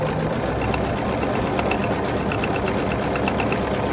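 A sewing machine stitches quilt pieces for a kite quilt with a fast, even mechanical whir and rapid needle ticking, loud and close throughout without pause or voices.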